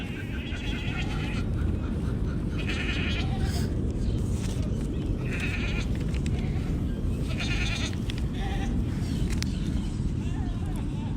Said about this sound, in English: And I do have one of our baby goats, Ember, right here.